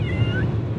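A stressed kitten meows once, close and clear, during a half-hour car ride over a low steady engine rumble.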